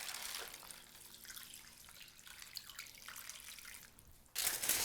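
Water poured from a cup into a pot holding olive oil, rice, rosemary and lentils for homemade dog food, a soft steady splashing and trickling at moderate distance that swells louder near the end, with no talk.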